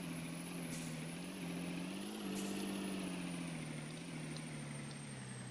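A vehicle drives steadily in a roleplay video game, its engine giving a constant, loud drone with a faint high whine above it, and no voices.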